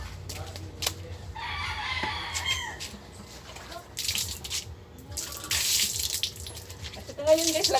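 Water runs from a tap in a very dirty boarding-house comfort room as people fill containers, with gushing and splashing that swells and fades in bursts, moderately loud and close.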